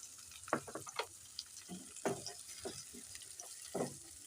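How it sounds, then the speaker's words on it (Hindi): Carrot, capsicum and cabbage frying in a pan for veg soup give a soft, steady sizzle, broken by several louder bursts of stirring and tossing scrapes as the vegetables are moved around. "इसको तकरीबन 1 से 2 मिनट तक हम इसको फ्राई करेंगे"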